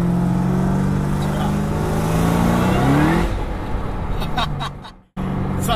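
A 725hp GT500 engine revs hard and loud at close range with rising harmonics, then drops into a rougher rumble before a sharp cutoff and a brief resumption.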